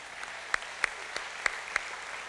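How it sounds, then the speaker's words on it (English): Brief applause from a large tribal assembly at a State of the Nation event honors a chief justice, a wash of crowd clapping with a few sharp, louder claps standing out nearby. "If you would give him a big round of applause."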